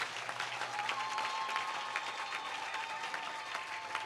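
A church congregation applauds, with dense, steady clapping that holds throughout at fairly close range. Faint voices sit beneath it.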